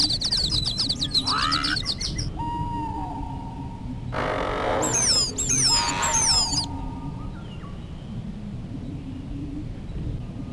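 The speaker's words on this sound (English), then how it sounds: "What a sweet little bird." Small bird chirps and twitters in a storybook fairy-tale PC game, bright repeated tweets in short bursts over a soft ambient music bed, with a louder flurry of calls midway.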